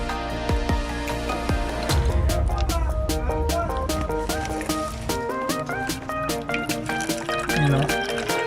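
Electrolyte water poured into a drinker for racing pigeons in a loft, a close continuous trickling and splashing with a rising filling tone, under cooing birds and other background sounds.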